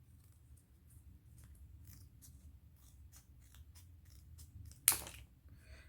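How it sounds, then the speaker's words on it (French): A single sharp scissor snip slices through a scrapbooking kit piece, loud and close, rising above soft low background hum, with a few faint clicks before it. "celui-là, je viens couper en deux"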